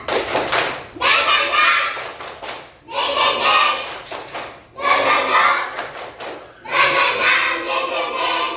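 Schoolchildren perform a spirit clap routine in a classroom, four loud bursts of rapid rhythmic clapping separated by short pauses, with voices chanting along.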